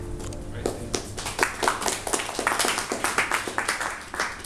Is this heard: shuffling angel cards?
no